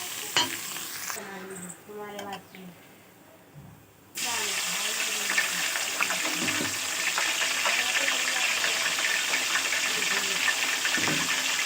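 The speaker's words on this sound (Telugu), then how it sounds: "ఇప్పుడు ఈ ముక్కలు ఆయిల్ వేసేద్దాం" Mutton pieces for mutton pickle (pachadi) go into half a litre of hot oil and start frying: after a few quieter seconds of clinking and stirring, a loud, steady, close sizzle suddenly takes over and continues.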